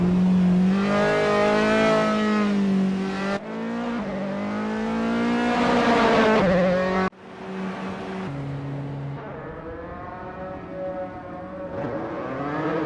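Dallara race car engines at Fuji Speedway GP in the Assetto Corsa racing game scream loudly through rising gears, with repeated upshifts and revving passes during a qualifying session.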